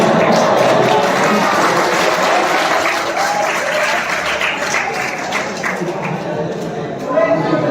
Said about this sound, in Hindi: आप तालियां इस तरह से मत बजाओ